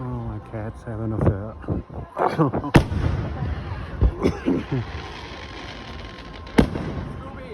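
Seaway festival fireworks in Ogdensburg, New York, popping and banging in an irregular series of sharp reports, some loud and close, mixed with people talking.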